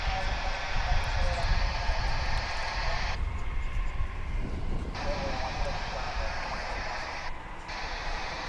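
A Boeing 787 Dreamliner takes off at DFW airport, its engines making a broad, steady jet roar heard from a distance, with some talk over it.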